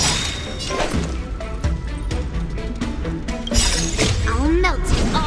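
A rock-shattering sword slash attack in the video game Honkai Star Rail, a loud stretch of crashing, shattering impacts and booms that runs continuously with a swooping effect near the end, under shouted voices.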